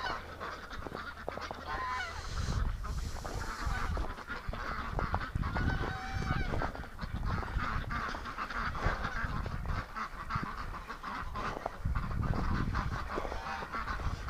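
Muscovy ducks in a winter swamp pen give repeated honking, goose-like calls that run steadily throughout, fairly close and moderately loud against outdoor background noise.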